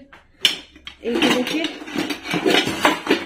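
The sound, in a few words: stove plates being put back on gas stove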